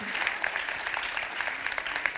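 An audience applauds at the opening of the 5th Lower Silesian Women's Congress 2025, a steady, dense wash of many hands clapping that holds evenly throughout without a break.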